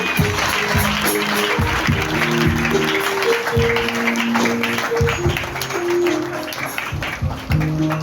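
A church congregation claps and cheers during a worship service, a loud sustained wash of applause with shouted voices and music-like tones underneath, lasting throughout.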